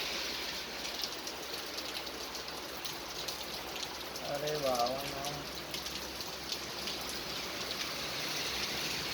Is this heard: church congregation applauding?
no